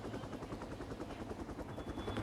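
Helicopter in the mobile game Rope Hero Vice Town, a steady rotor chop and engine whine filling the whole stretch at moderate level with no talk.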